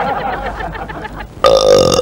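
A loud, close burp after eating plates of samosas and drinking cold drinks, a single drawn-out belch following a stretch of voices talking.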